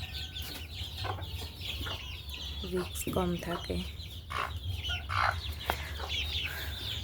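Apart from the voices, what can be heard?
chickens clucking in cage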